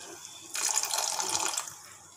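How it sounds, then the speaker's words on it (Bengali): A small amount of water poured from a bowl into a pan of masala paneer, a short splashing stream lasting about a second, close and fairly soft. "এবার এটার মধ্যে সামান্য একটুখানি জল দেব।"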